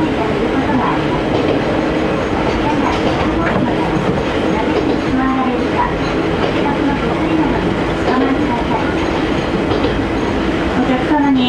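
An Ichibata Electric Railway 3000 series local train to Dentetsu-Izumoshi runs continuously on tracks near Matsue Onsen, a loud steady rumble with faint rhythmic clatter and a muffled announcement voice underneath.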